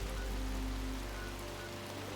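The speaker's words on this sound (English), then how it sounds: "it's raining hard out here" Heavy rain in the Fallout 76 game world, a steady close patter and hiss of drops on surfaces with a low rumbling undertone, continuous throughout.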